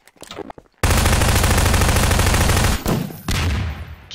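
Rapid automatic gunfire in Garry's Mod Prop Hunt: a couple of brief shots, then a loud continuous burst of about two seconds, a short pause, and another sustained burst, close and alone.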